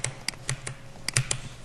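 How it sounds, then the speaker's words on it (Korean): Sharp, close clicks of keys pressed on a computer keyboard, about nine taps in irregular clusters, crisp and fairly loud with no voices. "그냥 키보드에서 딜리트로 눌러서 삭제했어요"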